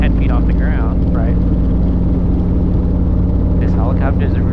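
A Robinson R22 helicopter in flight during a lesson fills the cabin with a constant, loud rotor and engine drone, while voices talk over it.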